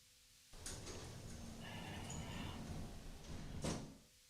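Heavy doors closing in the video game Dreamcore, a sustained rumbling slide that ends in a brighter thud, then a second sharper knock near the end, loud and close with no talk.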